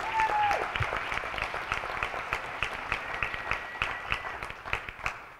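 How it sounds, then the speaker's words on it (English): Conference audience at the Illinois Association of Hispanic State Employees annual meeting breaks into applause, a moderate patter of clapping that starts fuller and thins out toward the end. "give yourself a round of applause"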